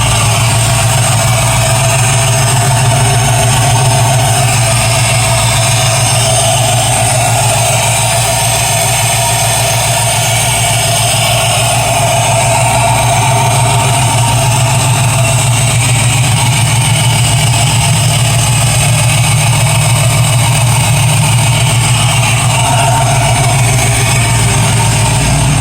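A 1991 Chevrolet S10 engine idles steadily while warming up, running rich and not yet tuned. It is a close, continuous, even drone with no pauses or revs.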